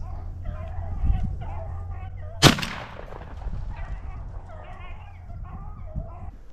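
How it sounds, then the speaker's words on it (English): A single sharp shotgun blast rings out mid-clip while rabbit hunting with beagles in Pennsylvania, loud and close, against a quiet outdoor background with faint low rumble. "it's a pretty cool shot I got at this rabbit, so I slow it down"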